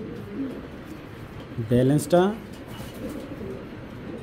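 Racing pigeons give two short, close coos in quick succession against a faint background hum, with a person talking nearby.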